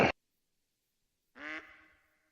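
Ducks on Leyton Lake in the hunting game Call of the Wild give two quacks: a short clipped one, a quiet gap, then a longer, nasal, raspy quack that trails off.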